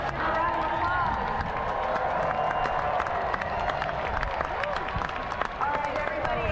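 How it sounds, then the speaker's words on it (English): A crowd at an outdoor eclipse-viewing event in Carbondale, Illinois applauds the SIU Marching Salukis. The clapping and cheering are fairly distant and continuous, mixed with crowd babble and speech. "A round of applause."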